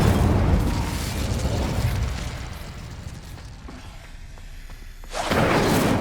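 Incendio fire spell cast in Hogwarts Legacy: a loud whooshing, roaring burst of flame fades into a rumbling tail, then a second fiery rush flares up near the end.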